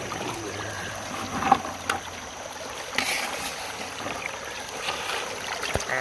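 Water runs through a gold-prospecting sluice with a steady, moderately loud rush and trickle. A few soft knocks and splashes come through, and no speech is heard.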